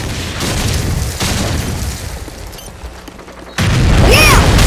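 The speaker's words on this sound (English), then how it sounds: "I detonated the bomb!" In Call of Duty 4, a bomb detonates in a sudden loud explosion that cuts in abruptly after a stretch of rumbling gunfire and background battle noise.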